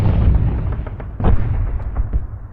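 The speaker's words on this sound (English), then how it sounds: "Uninterrupted artillery fire from Purple Mountain." Japanese artillery shells explode in continuous heavy rumbling bursts, a dense roar of impacts with sharper blasts standing out, loud and unbroken throughout.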